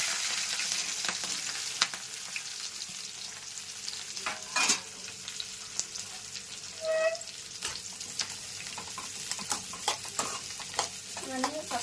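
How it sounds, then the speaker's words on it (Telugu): Onion, green chilli, cumin seeds and curry leaves fry in hot oil, a steady close sizzle broken by frequent stirring scrapes and clinks of a spoon against the pan, with no one talking. "ఉల్లిపాయ బాగా వేగాలండి, మంచి గోల్డ్ కలర్లోకి రావాలి."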